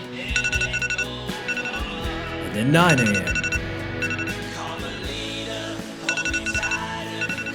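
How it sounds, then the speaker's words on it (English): A morning alarm clock rings in repeated electronic bursts, fairly close and loud, while someone talks over it. "I set my alarm clock for 7 a.m."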